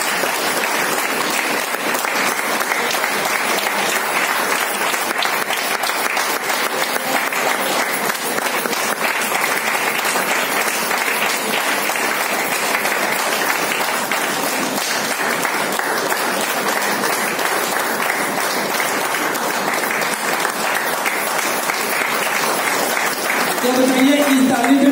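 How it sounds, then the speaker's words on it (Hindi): A long, sustained round of applause from an audience at a Women's Day celebration, dense and unbroken clapping at a constant level, with a voice briefly surfacing near the end. "तालियां जोरदार होनी चाहिए।"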